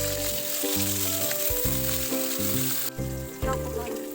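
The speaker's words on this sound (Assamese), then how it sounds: "মাছখিনি আমি নিমখ হালধি সানি এনেকৈ তেলত ফ্ৰাই কৰি লম" Fish rubbed with salt and turmeric fries in hot oil, giving a loud, continuous sizzle and crackle that runs throughout, with steady tonal music playing over it.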